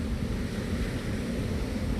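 Pacific Ocean surf on an Australian beach, a steady broad wash of waves mixed with wind noise that stays constant and fairly loud for about two seconds, with nobody talking.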